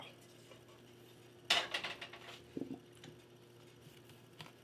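Cooked pasta being drained from a pot in a kitchen, a sudden burst of sloshing water and rattling metal followed by a few softer clanks.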